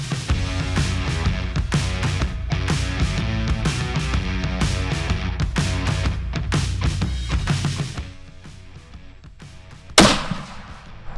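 Single sharp rifle shot near the end while hunting blackbuck, loud and close with a brief echoing tail, after several seconds of steady background music.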